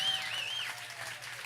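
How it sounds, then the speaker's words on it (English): An audience at a live presentation applauds a speaker being introduced. The clapping is brief and blends into a wash, with a thin whistle-like tone over it. "Let's give a round of applause for Park."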